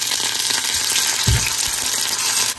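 Tofu frying in mustard oil in a freshly scrubbed new wok gives a steady, close sizzle throughout, with a brief louder burst of spattering partway through.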